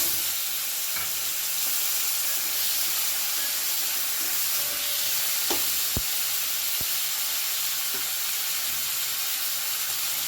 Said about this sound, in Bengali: একটু ফোড়নটা মেরে নিচ্ছি দিয়ে দিচ্ছি দুটো টমেটো কুচি